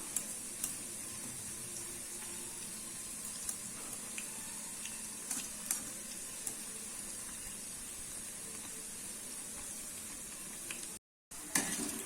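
Onion thool bajji fry in oil on a moderate flame and are turned until crisp, giving a steady, fairly quiet sizzle with a few faint clicks of turning. A brief silent break comes near the end, and no voices are heard.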